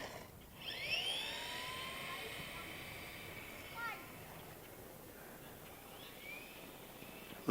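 A Tamiya Fat Fox RC buggy with a brushed motor and NiMH battery pack drives past, its thin, high electric whine rising and falling in pitch as it speeds up and turns, moderately distant.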